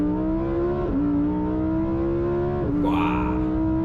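A 2023 Lamborghini Huracán Técnica engine accelerates hard, its loud, close, rising whine climbing through the revs with two brief dips at the gear shifts before pulling again.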